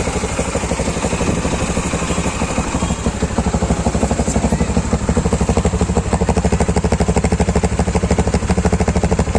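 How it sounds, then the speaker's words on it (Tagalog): A Yamaha STX 125 motorcycle engine idles nearby with a steady, rapid putter and loud rumble, unchanging and continuous for the whole stretch. "So kung maririnig nyo, umaandar yung motorsiklo"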